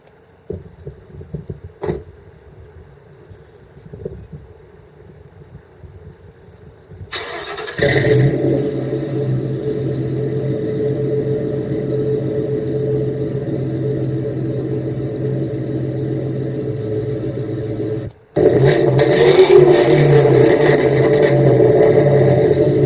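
A 2004 Mustang GT-style V6 fitted with Cherry Bomb glasspack mufflers cranks over and fires into a loud, deep rumbling idle that runs steadily, cuts out for a moment, then resumes close by.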